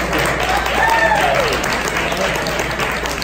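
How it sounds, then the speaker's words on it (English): Applause from a crowd at a live podcast launch event, a thick steady wash of clapping lasting the whole stretch, with some whoops and voices mixed in beneath. "So let's clap them out, you guys."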